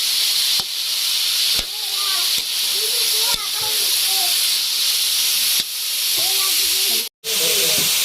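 Mung beans and bitter gourd sauté in a pan with a steady, close hiss of sizzling that runs nearly the whole time, broken by a few brief dips, while a voice talks intermittently over it.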